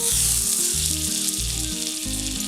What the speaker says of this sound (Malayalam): ഇതിലേക്ക് 2 ടേബിൾ സ്പൂൺ ബട്ടർ അല്ലെങ്കിൽ നെയ്യ് ചേർക്കാം.